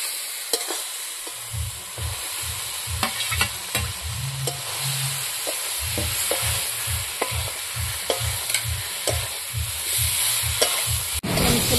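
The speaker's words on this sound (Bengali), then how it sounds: "এখন আমি ভেজে রাখা ফুলকপি আলুটা দিয়ে দেবো।" Fried cauliflower and potato tumbled into a sizzling spiced masala for a Bengali winter rui fish curry, with a steady frying hiss and a run of rhythmic spatula scrapes and stirs close up, no talk.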